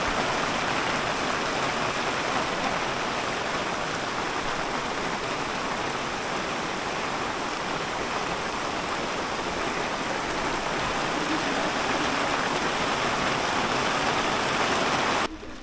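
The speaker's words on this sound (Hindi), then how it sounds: "मज़े की बात यह है कि बारिश स्टार्ट हो गई है अभी" Steady rain falls on a mountain road from Palampur to the hilltop Shikari Devi Temple in Himachal, a dense, continuous hiss that stays loud and even throughout with no voices.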